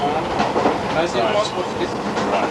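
Rhodesian passenger train rolling across the Botswana veldt, a continuous rumble with rhythmic wheel clatter heard from inside the carriage, and a voice faintly present beneath.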